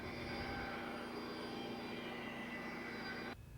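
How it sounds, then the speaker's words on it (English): A Craftsman band saw runs steadily, giving a loud, even whine with a constant buzzing tone as it cuts, then stops abruptly near the end, with no voices. "Turn the saw on and make the cut."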